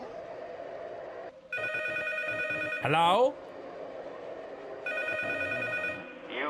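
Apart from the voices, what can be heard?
telephone ringing in the video game P.T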